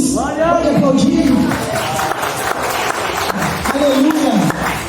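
A church congregation claps during a spiritual warfare service while a preacher's loud voice rings out over it in two long calls, the applause continuing as a busy layer beneath.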